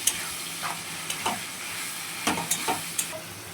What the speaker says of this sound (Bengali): ওটা আগে ভাজা ভাজা করে নেবো আলুর সাথে